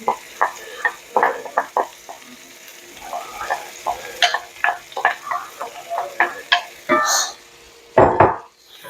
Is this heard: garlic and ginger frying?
yes